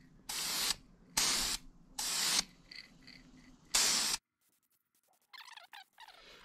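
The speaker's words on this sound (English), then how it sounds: "I had to spray it from lots of different angles" Aerosol heat paint is sprayed onto a homemade propane tent stove in four close, loud hissing bursts of about half a second each, followed by quieter faint rattles and handling sounds.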